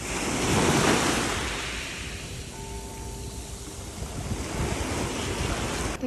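Waves wash onto a pebbly beach at Menton on the French Riviera, a steady broadband surf roar that swells early and then settles, with some wind buffeting the microphone and no voices.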